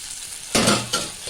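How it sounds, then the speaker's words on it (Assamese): Boiled potatoes and taro hit a hot oiled pan with a loud sudden sizzle, then a second burst as they are stirred, the frying hiss settling between movements. "যিহেতু আলু আৰু কচুখিনি বইল কৰি লৈছোঁ, আমি বেছি টাইম ভাজি নল'লেও কথা নাই।"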